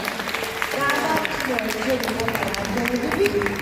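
An audience applauds at a preschool children's musical, with steady close clapping and crowd noise throughout as a voice talks over it.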